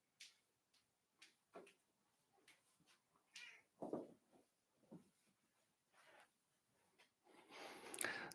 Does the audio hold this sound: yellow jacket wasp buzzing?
no